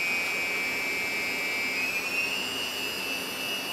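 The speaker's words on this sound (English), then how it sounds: "So go above half throttle and then begin raising the craft off the ground." Multicopter drone motors throttled above half throttle, a loud steady high-pitched whine that holds throughout and rises slightly in pitch midway.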